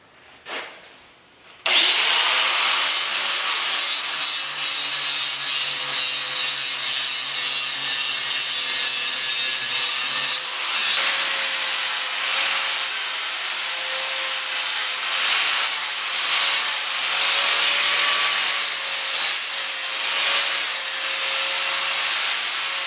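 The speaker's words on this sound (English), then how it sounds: "next we're going to grind a bevel on here. We'll just use a regular grinding disc for that one." A grinding disc cuts a bevel on a steel pipe for a heavy-duty outdoor cooking grill, starting after a brief pause and then roaring loud, harsh and continuous close by, with the pitch wavering slightly.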